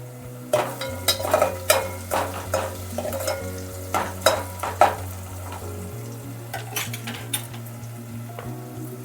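Onions and dried red chilies fry in a pan with a continuous sizzle, while a utensil scrapes and clinks against the metal in irregular stirring strokes.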